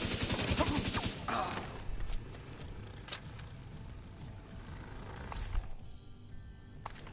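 Rapid bursts of gunfire in The Division 2 crackle through a fight, a dense volley at the start followed by scattered sharp single shots, fairly loud, with light talk mixed in.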